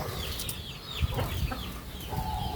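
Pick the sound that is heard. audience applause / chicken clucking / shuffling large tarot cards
chicken clucking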